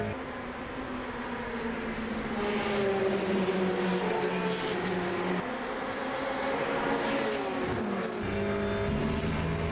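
Ferrari race car in the Le Mans Ultimate racing game, its engine droning loudly and steadily throughout with rising and falling revs, a gear-change dip midway and faint tire squeal, no voices.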